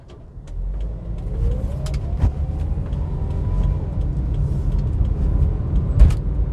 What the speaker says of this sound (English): Proper traditional automatic gearbox, you can hear it whining away